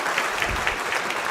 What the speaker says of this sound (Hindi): तालियां सर तीनों पार्टिसिपेंट्स के लिए।